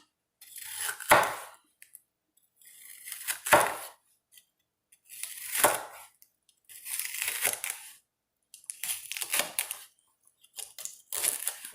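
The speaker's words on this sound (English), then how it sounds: "You want to cut in strips." A sharp knife slices turkey necks into strips on a board, giving six separate crunchy, crackling cutting strokes spaced about two seconds apart, close and fairly quiet, with silence between them.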